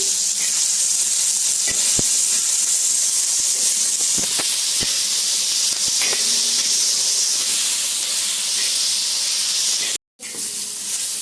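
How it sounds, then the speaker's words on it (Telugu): Tomato pieces and garlic cloves frying in a pan for a peanut chutney give a loud, steady hiss with scattered small pops and crackles, cutting out briefly near the end. "మనము టమాటా ముక్కలతో పాటు ఎల్లుల్లి రంబలు కూడా వేసి ఫ్రై చేసుకోవాలి"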